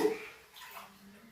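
A short, soft splash of water being poured into a pot for biryani, close by and quiet, easing off toward the end.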